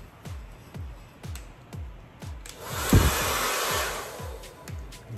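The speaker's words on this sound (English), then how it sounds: "I'm definitely going to use the big hair dryer" A hair dryer switches on partway through and blows with a steady, broad whoosh, preceded by a series of soft rhythmic thumps.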